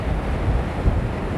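Ocean surf below a beachfront resort building in Mexico, a steady broad rush of waves with heavy wind buffeting on the microphone, loud and continuous with no talking.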